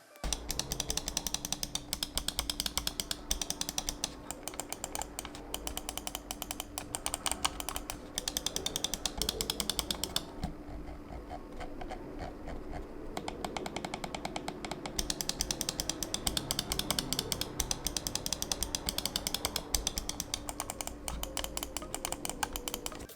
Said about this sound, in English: If you want to know how this mouse sounds on your desk, how the clicks sound, I went ahead and made a sound test